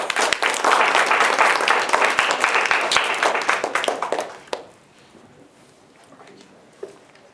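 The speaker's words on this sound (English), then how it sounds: "Please give her a warm round of applause." An audience claps warmly for a speaker coming to the stage, a loud dense burst of applause for about four seconds that quickly dies away into a quiet room.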